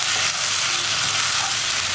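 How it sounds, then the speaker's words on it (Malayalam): Cooked pasta being stirred and mixed in a frying pan, giving a dense, continuous close sizzle with soft stirring underneath, steady and fairly loud throughout, no voices. "വീണ്ടും ഒന്ന് ഇളക്കി മിക്സ് ചെയ്യുക"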